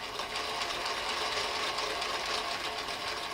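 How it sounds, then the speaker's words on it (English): A sewing machine stitches a curved seam in fabric with a steady, continuous mechanical whir at close range, running without pause or talk. "we're going to keep sewing"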